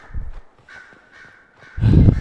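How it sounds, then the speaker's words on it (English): Crows cawing in the video game Dragon Age: Inquisition, a few harsh caws in quick succession with a louder burst at the end, no talk over them. "Damn crows."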